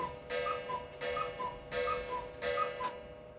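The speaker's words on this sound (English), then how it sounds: "Oh, that's my cuckoo clock." A cuckoo clock ticks indoors in a slow, even rhythm, each beat carrying a faint ringing metallic overtone, quiet and close.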